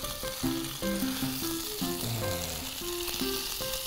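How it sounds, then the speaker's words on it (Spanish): Butter and a splash of oil sizzle steadily in a hot pan, a loud continuous frying crackle with faint clinks of a utensil running through it, no talk. "para que no se queme la mantequilla voy a poner un chorrito de aceite"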